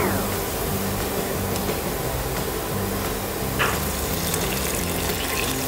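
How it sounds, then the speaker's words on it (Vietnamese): Fish sauce pours into a pan for chili-braised dried squid, making a steady liquid stream and hiss that runs the whole time, close and even, with faint background noise and no voices. "Chúng ta cho nước mắm vào."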